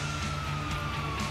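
Wailing ambulance siren from GTA V, a steady loud tone holding throughout at close range with no talk over it.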